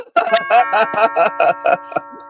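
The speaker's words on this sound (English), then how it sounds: "Are you still ringing the doorbell?" An electronic doorbell chime plays a melody of about eight quick, ringing notes, loud and close, with the final tone fading out.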